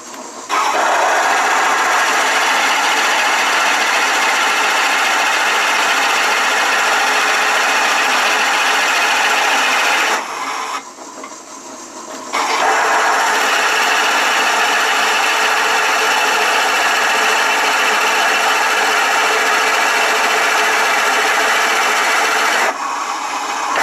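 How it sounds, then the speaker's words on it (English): A drill press whirs loudly as a 1 3/4-inch Forstner bit grinds steadily through wood, pauses briefly, then resumes for a long continuous cut. "now we're set up in the drill press with a Forster bit"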